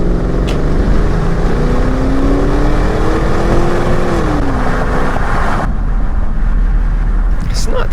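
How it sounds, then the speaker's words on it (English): A first-generation Porsche Cayenne S V8 revs loudly and close, its tone climbing and falling through several throttle blips over a heavy rumble, then settling back to a deep idle. "That V8 does make some thunderous, nice noises that I do really appreciate."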